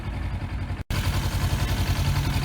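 A 2017 Kawasaki Versys X300 motorcycle engine runs at a steady idle nearby, a continuous low hum broken by a brief cut-out before resuming, with no talking.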